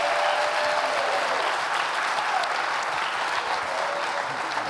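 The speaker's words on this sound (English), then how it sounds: "Please, a big, huge round of applause for our folks." A sports summit audience applauds the panelists, a dense and steady wash of clapping that holds at even loudness throughout the short stretch.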